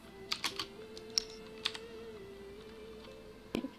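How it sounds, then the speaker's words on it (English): Scattered clicky keystrokes on a mechanical keyboard with MX Blue switches, a handful of sharp taps spaced irregularly over a soft background hum, close to the microphone. "Good old mechanical keyboard."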